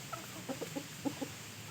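A young Pa Koi rooster gives soft, scattered clucks, about seven short notes in an uneven rhythm, heard faintly over a steady background hiss.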